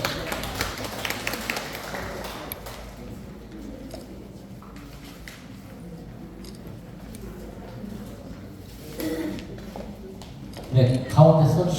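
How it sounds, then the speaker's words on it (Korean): A room of guests at a Lions Clubs inauguration ceremony in a conference hall claps, strongest in the opening seconds and then thinning to scattered claps. Steady talk runs over it, with shuffling and a brief louder clatter near the end. "자, 뜨거운 박수 한번 보내주시죠."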